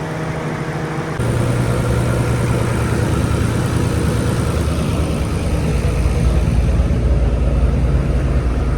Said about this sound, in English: So I'm just gonna keep letting it idle some more